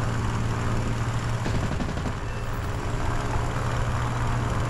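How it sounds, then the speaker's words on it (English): A Fiat G56 fighter's piston engine straining hard in War Thunder simulator play, a loud, constant droning roar with a strong low hum, steady throughout with no speech. "I'm gonna burn the engine doing this."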